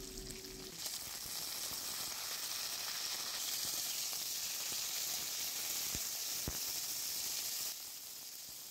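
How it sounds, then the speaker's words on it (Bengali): Cut cauliflower frying with lightly browned potatoes in a pan, a continuous loud, hissing sizzle that holds steady and then eases slightly near the end. "ফুলকপিগুলো আলুর সাথে ভেজে নেওয়া হচ্ছে"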